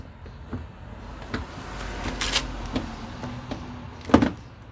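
A plastic trim panel around a car headlight is pried off by hand, giving scattered faint clicks and scrapes, a brief louder crackle midway and a sharp plastic snap near the end.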